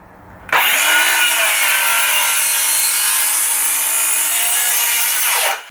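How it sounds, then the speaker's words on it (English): A Ryobi One+ 18V cordless circular saw spins up and makes a 45-degree bevel cut through timber, a loud, steady, high whine with a sudden start and a spin-down at the end. "Now if I wanted to do a bevel cut on this one here, so once again, still set at 45 degrees."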